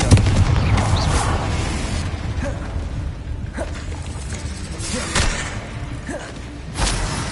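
A Confringo fire spell in Hogwarts Legacy lands with booming thuds and whooshing bursts, several impacts spaced across a dense, rumbling battle backdrop, loud and close.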